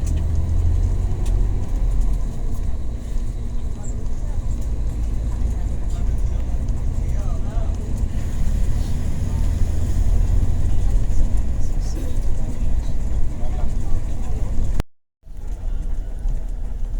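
Bus engine pulling away and accelerating on the road, a continuous low rumbling drone heard from inside the vehicle, steady throughout with a brief dropout near the end.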